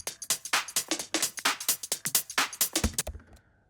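Drum loops with phase-shifted drums panned left and right in a sub-bass electronic track, a dense run of punchy, evenly spaced hits that stops abruptly near the end.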